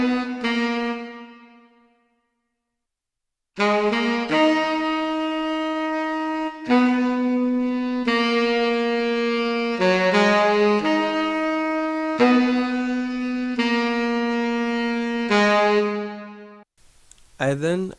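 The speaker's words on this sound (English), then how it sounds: "so I added a saxophone from Decent Sampler" A sampled saxophone from Decent Sampler plays a slow melodic line of long held notes, one note fading into a gap before the phrase resumes and carries on steadily, close and alone.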